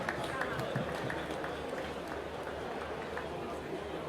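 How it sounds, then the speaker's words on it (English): Applause and crowd noise fill the hall at a gala night for the Oyo State 50th anniversary celebration, a steady wash of clapping and murmur lasting throughout, with a voice talking over it. "A round of applause, please."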